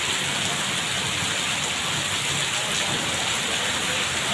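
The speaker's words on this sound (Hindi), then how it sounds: "असल तूफानी बारिश आज आई है" Dense, constant roar of heavy stormy rain pouring down in Sandhilianwali, a bright wash of hiss with no letup across the whole stretch.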